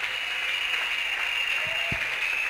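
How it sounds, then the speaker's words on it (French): A church healing service crowd applauds in a dense, continuous wash of clapping, steady throughout with a few low thumps near the end. "Continuez à acclamer. Il y a des guérisons qui s'opèrent."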